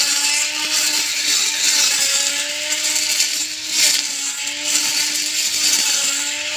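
Gas-powered grass cutter runs outdoors near trees, a loud high-pitched motor whine with a steady tone that dips and rises slightly as the blade bites into grass.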